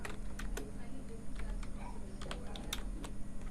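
Someone types a chat message on a computer keyboard, giving quick, light clicking keystrokes in irregular bursts over a steady background hum, close and fairly faint.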